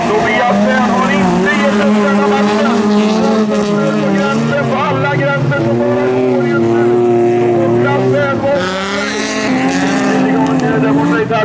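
Folkrace cars roar around the Vimmerby track on the final lap, engines loud and close with shifting pitch and brief tire noise, under continuous excited race commentary.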